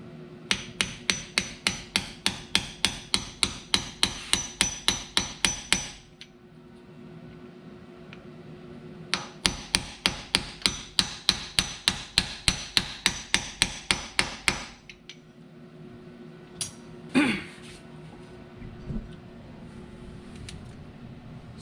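Rapid metal hammer strikes drive a new rear axle seal into place on a Suzuki Samurai, two long steady bursts of close, sharp blows separated by a pause, then a few scattered knocks.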